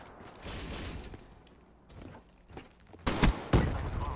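Shotgun gunfire in Black Ops 3: two loud, sharp blasts near the end, following a stretch of quieter in-game noise and faint shots.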